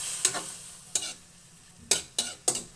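Squid and vegetables being sautéed in a pan, with a quiet sizzle underneath and several sharp stirring scrapes and clacks, some spaced apart and others in quick succession, heard up close without talk.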